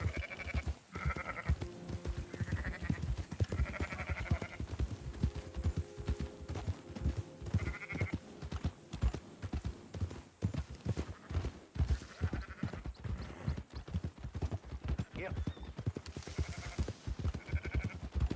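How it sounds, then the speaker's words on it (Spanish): A flock of sheep bleats repeatedly while being herded in the Red Dead Redemption video game, the calls overlapping steady, close clip-clopping hooves of a horse throughout. "Estamos llevando un rebañito de ovejas"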